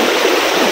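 A river swollen by rain near Lanja in Ratnagiri rushes past, a loud, dense and steady roar of flowing water filling the brief moment.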